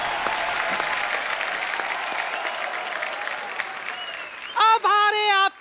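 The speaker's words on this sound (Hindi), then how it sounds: "गीता जी के लिए जोरदार तालियां।" Studio audience applause on The Great Indian Kapil Show, a TV comedy show: a dense, steady wash of clapping for several seconds, then a brief, loud musical sting with bright sustained tones at the end.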